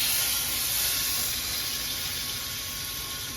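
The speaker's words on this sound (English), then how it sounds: "That's what you wanna hear, a nice sizzle." Beef short ribs searing bone side up in a hot pan for braising, giving a steady, close, continuous frying hiss that fills the whole moment with no talk over it.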